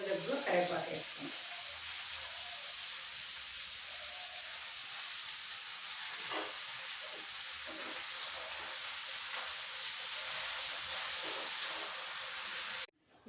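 Masala and green brinjal cooking in hot oil, a soft continuous hiss and sizzle at low level with a few brief stirring clatters and a voice talking over it.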